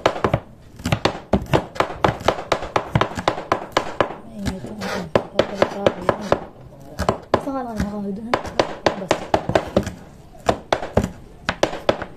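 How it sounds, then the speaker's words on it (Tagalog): A knife chops kangkong (water spinach) on a wooden board in rapid, close, rhythmic thunks, pausing briefly now and then, while a person talks over the chopping. "Ito na po yung hiniwa ko na kangkong."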